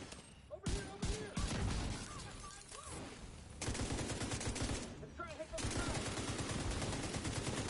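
Automatic gunfire in The Division 2 video game crackles in dense bursts. Heavier sustained firing runs through the second half, and brief voices can be heard between the volleys.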